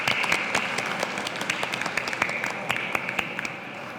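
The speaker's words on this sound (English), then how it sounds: "Let's give a big round of applause to our yoga masters and volunteers on stage." An audience at an International Day of Yoga event applauds the yoga masters and volunteers on stage, with steady scattered clapping and some sharper individual claps standing out, no talk.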